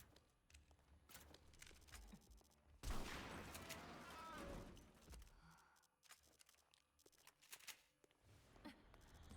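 Shotgun blasts in the video game Anomalith: one loud, sharp broadband burst with a lingering tail stands out among scattered clicks, shuffles and smaller impact sounds.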